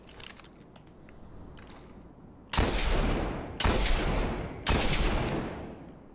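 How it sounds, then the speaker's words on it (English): The Hawkmoon exotic hand cannon from the video game Destiny fires three loud, booming shots about a second apart. Each blast rolls off in a long decaying tail, with no talk over them. "And this is the sound of the Hawkmoon."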